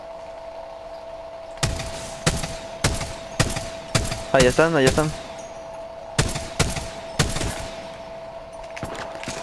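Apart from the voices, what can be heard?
gunfire in the video game Apex Legends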